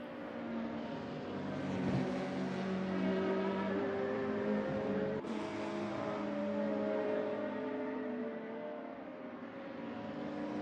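BMW race car in a sim racing game at Donington, a steady loud engine drone whose pitch rises and falls through gear changes and sweeping corners, continuous throughout.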